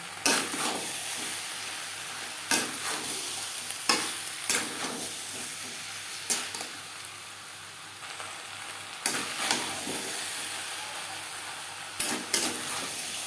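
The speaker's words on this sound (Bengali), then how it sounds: "মশলার সাথে আলু এঁচড় বেশ ভালো করে কষিয়ে নেওয়া হয়ে গেছে" A steady sizzle of potato and young jackfruit sautéing with spices in a pan, punctuated every couple of seconds by the scrape of a stirring spoon.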